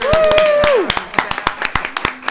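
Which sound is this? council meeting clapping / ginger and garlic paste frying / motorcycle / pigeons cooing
council meeting clapping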